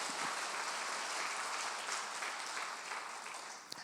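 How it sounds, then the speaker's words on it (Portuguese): A church congregation applauding during a service: continuous, dense clapping from many hands that fills the room and tapers slightly toward the end. "Bata as palmas para Ele,"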